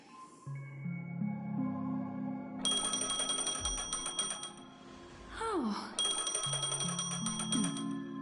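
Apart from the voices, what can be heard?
phone ringing in Honkai: Star Rail, video game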